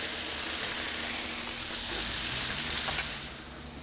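Krakowska sausage sizzling on a Blackstone griddle, a steady bright frying hiss that holds at the same level throughout and eases off slightly at the end, with no talking.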